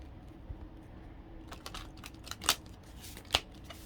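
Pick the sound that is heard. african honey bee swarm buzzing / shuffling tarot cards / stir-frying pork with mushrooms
shuffling tarot cards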